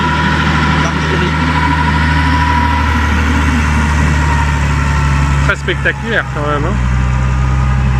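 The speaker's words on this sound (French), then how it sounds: "Alors ça, c'est un tracteur Lafite d'artillerie." A 1918–1940 French Latil artillery tractor runs past at a museum display in Meaux, its engine a constant loud, low, chugging drone throughout, with someone briefly speaking near the end.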